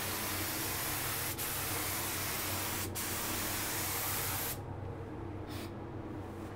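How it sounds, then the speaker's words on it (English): HVLP spray gun laying down passes of paint, a steady close hiss running continuously with brief breaks between strokes. "We'll do a couple more passes just to show you."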